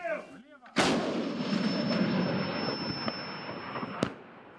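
Artillery guns firing at a military training range in the Donetsk region of Ukraine: a single loud, close blast followed by a long rolling rumble and echo, with a second sharp report near the end.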